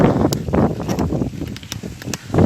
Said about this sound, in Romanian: Ploaie, mă rog, vântul ăsta puternic.